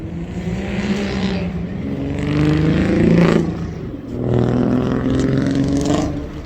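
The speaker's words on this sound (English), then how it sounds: "And that's a Volkswagen Jetta." A Volkswagen Jetta fitted with glass pack mufflers drives past on a road, its engine note rising and swelling in two loud waves as it goes by close.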